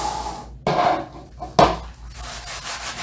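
Light, quick wiping across the dried surface of an acrylic pour painting with a small amount of rubbing alcohol, giving soft rubbing and swishing strokes, two sharper swipes standing out among steady brushing, close and alone.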